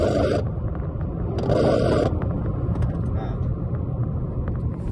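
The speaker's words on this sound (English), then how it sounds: "It is making a horrendous noise on acceleration when you accelerate" A BMW F30 320i with a failing clutch accelerates in second gear on a road test, its drivetrain giving a harsh grinding rumble with bursts of rasping noise over the engine drone.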